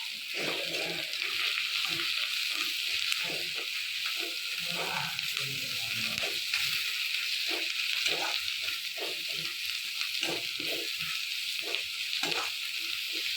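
Onion fries in oil in a pan, giving a moderate, continuous sizzle broken by repeated stirring scrapes, with a voice faintly present at times.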